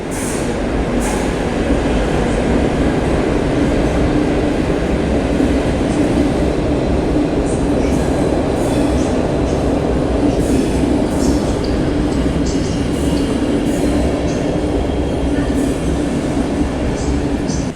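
A Berlin-Warszawa Express EIC passenger train of about six coaches rolls into Warszawa Centralna station, a steady loud rumble of wheels and carriages with faint high squeals, continuous throughout with no talk over it.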